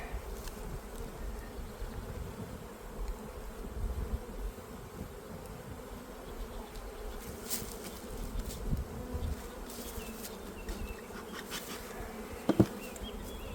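A steady, low hum of many honeybees buzzing close together inside a full double-deep hive in spring, continuous and fairly quiet, with a few brief clicks near the end.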